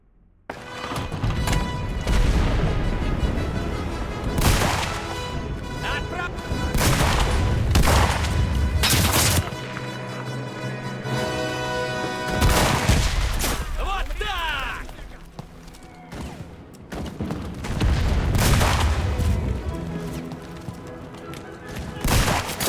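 Winchester M1895 lever-action rifle fire in the game Enlisted, loud sharp shots and bursts of battlefield gunfire with booming impacts, heard under someone speaking.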